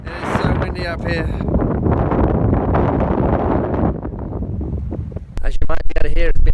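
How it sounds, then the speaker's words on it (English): Heavy wind on the Death Valley sand dunes blasts across the microphone in a constant low roar, with a person talking over it at the beginning and end. "It is so windy up here."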